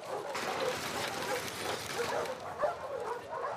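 A dog in The Last of Us Part II video game barks and whimpers close up in a short, excited burst over steady background noise.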